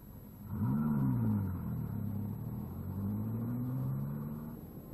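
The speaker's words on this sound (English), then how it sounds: "On the traction test, the old compound gave very serious wheel spin" A 1950s car accelerates hard on a tyre traction test, its engine note rising and falling in sweeping bursts as the wheels spin, fairly close and steady for several seconds with no voices.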